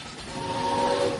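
A train whistle sounds in a short steady tone, swelling slightly over about a second, heard from a moving vehicle on a road in Enfield.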